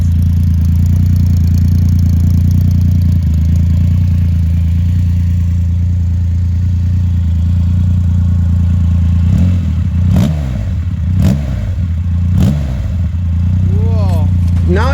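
Triumph Rocket 3 motorcycle with a 2500cc three-cylinder engine idling in a steady, loud, close rumble, then sharp revs rising and falling several times near the end.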